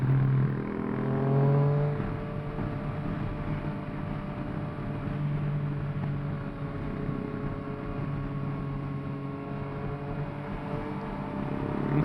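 A Yamaha Tracer 900 motorcycle cruises at speed on an open road, its steady engine drone mixed with broad, continuous wind rush that holds constant throughout, with no talking.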